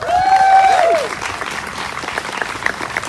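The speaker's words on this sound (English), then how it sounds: "One more round of applause, please." An outdoor crowd at a Hope Walk charity event gives a loud, dense burst of applause to a high school choir, the clapping steady and close throughout while a sustained sung or whistled note fades out in the first second.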